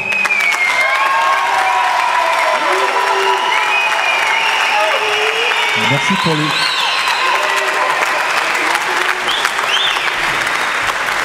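An audience at a professional improv theatre match applauds a company's artistic director with continuous dense clapping and some cheering, while voices talk over it.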